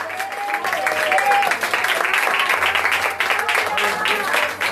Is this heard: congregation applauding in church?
yes